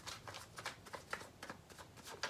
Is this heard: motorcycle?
no